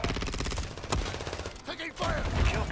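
Rapid gunfire in the video game Warzone 3, a dense stream of close automatic shots with bursts and pauses, mixed with game effects and a brief voice callout.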